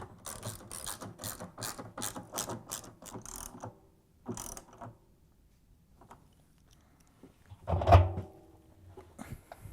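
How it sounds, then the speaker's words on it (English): A 10mm socket wrench tightening the tub bolts of an LG/Kenmore washer, with quick bursts of ratcheting clicks, a pause, a few more clicks and a louder clunk near the end. "Then use the 10mm socket wrench to tighten them all up."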